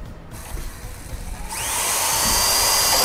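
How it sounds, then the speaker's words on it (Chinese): A power drill bores a hole through the body panel of an accident-damaged 2016 Volkswagen Tiguan during repair. After a quiet start, a loud, steady high-pitched whine holds for the last half of the clip, with no talking. "现在把洞钻它原来一样大"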